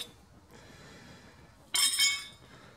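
Broken pieces of a metal slitting saw blade clink together in a short bright burst after a faint rustle, close by and brief.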